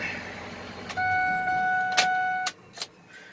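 A flatbed truck engine with a misfire is revved above idle, giving a loud, steady droning hum for about a second and a half. Sharp knocks come midway and again as it drops back.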